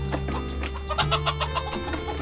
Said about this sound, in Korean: 이게 필리핀 닭인데